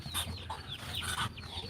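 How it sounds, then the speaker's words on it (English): Backyard chickens cluck softly in short, overlapping bursts, close and steady over a faint outdoor background. "Little chickens."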